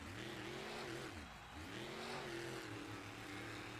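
A monster truck engine revving hard during a freestyle run in Salinas, California: a loud, continuous roar whose pitch rises and falls as the truck spins around, briefly dipping before surging again.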